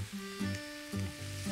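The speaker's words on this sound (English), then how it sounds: "It's very comforting to hear onions frying and smell them frying." Steady sizzling of onions frying in a pan, a soft continuous crackle with faint clinks, close by and fairly quiet.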